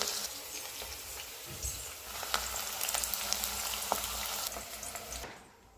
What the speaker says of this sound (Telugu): ముందుగానే దొండకాయ అయితే ఫ్రై చేస్తున్నాను ఇవి బాగా వేగిన తర్వాత ఈ మొత్తం వేసేటప్పుడు చూస్తాను